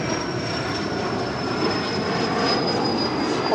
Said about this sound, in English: that is a Learjet 45 taking off to Omaha